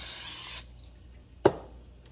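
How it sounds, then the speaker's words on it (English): A short hiss of cooking spray from an aerosol can into a crock pot, about half a second long, followed by a single light knock. "Spray my crock pot."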